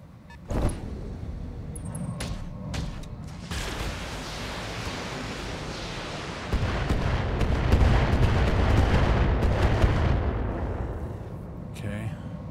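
Mech weapon fire in the video game Battletech: a few sharp blasts early, then a swelling, rumbling barrage of heavy impacts and explosions, with a voice talking over parts of it.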